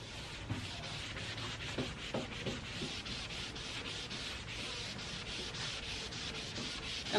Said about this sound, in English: I'm sort of scrubbing it there to try and even it out.